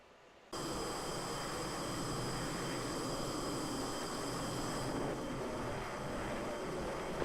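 Sustained broadband roar of an F-16 jet climbing in the Falcon BMS flight simulator, steady and loud from start to finish after a sudden onset, with a faint high whine layered over the rushing engine noise.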